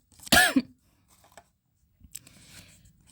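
A single sharp cough bursts out near the mic, followed by quiet shuffling and faint rustling.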